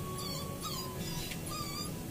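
Young puppies, about one to two months old, whimpering: thin high whines repeating in short cries over a steady background hiss, with no talking.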